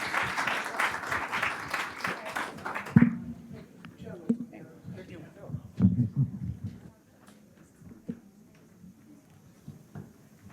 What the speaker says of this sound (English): Let's give a round of applause for our experts.